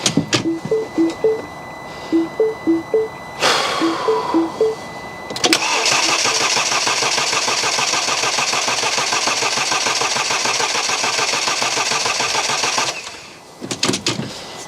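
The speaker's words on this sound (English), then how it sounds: "Now I'll try and turn it over for the first time." A rebuilt Mini Cooper S engine cranks over for the first time with its ignition coils disconnected, a rhythmic starter whirr in short bursts and then a long, steady, loud churning spin that stops abruptly, close up with no voices.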